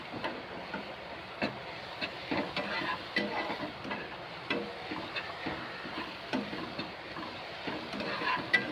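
Onion and tomato frying in a pan for kande pohe, a soft continuous sizzle under repeated scraping stirs of a spoon, close and fairly quiet.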